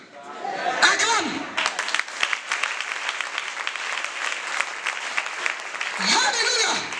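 Congregation clapping during a church service, a steady dense roll of applause with voices calling out over it throughout, swelling again near the end.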